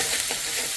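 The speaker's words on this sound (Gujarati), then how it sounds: "હવે કરવો છે વઘાર. ગરમ થઈ ગયું છે અને લસણ અને મરચાંની પેસ્ટ નાખી દેશું." Garlic and chili paste hits hot oil for a tempering for a green corn curry, a brief, loud, crackling sizzle.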